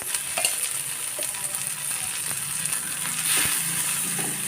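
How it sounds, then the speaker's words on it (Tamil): Masala with tomato, garam masala and chilli powder sautés in a pan for paneer butter masala dosa, a steady close sizzle with repeated stirring scrapes and spoon taps against the pan. "இந்த பச்சை வாசனை போகிற அளவுக்கு கொஞ்சம் வதங்கினா போதும்"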